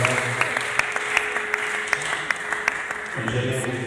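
A church congregation applauds with a regular beat of distinct claps over a steady sustained tone, with voices mixed in throughout.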